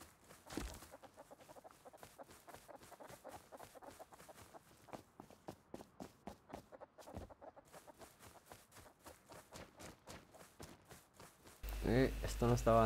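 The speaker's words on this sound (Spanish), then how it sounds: "Tampoco quiero gallinas, que las he escuchado por ahí" Chickens in the video game Rust cluck in a quick, steady run of short repeated clucks at moderate distance, ending with a sudden louder burst of other game sound.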